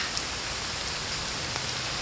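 Steady rain falls in a constant, even hiss of drops hitting surfaces, close and moderately loud throughout, with no voices.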